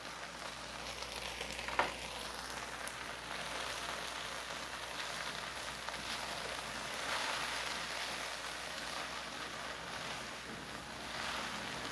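Ginger and garlic fry with softening tomatoes in a pan for okra masala, giving a steady, close sizzle and crackle throughout with a brief stir clatter near the start.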